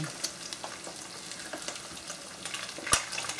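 Eggs frying over easy in a pan, a quiet, steady sizzle with scattered small pops and a sharp scrape of a spatula near the end as one is flipped.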